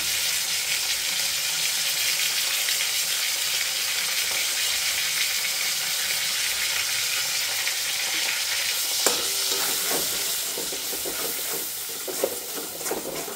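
Onion paste made from large onions fries lightly in a little oil for a mutton dinner, giving a steady, close sizzle that holds throughout, with a few faint clinks and scrapes near the end.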